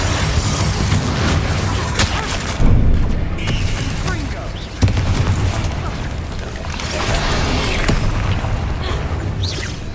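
Repeated Confringo blasting spells in Hogwarts Legacy, dense booming blasts layered over a continuous roar of combat noise, loud and close throughout with a couple of sharper impacts standing out.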